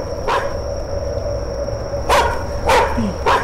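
Several dog barks in the horror video game The Karaoke by Chilla's Art, heard as short separate bursts over a steady hum and a high electronic tone, spaced out with one early bark and a cluster toward the end.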